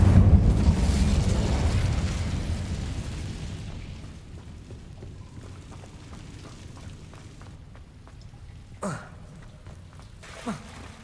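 Casting the Incendio fire spell in Hogwarts Legacy sets off a loud, low burst of flame that roars and slowly fades. Quieter rustling follows, along with two short, sharp pops near the end.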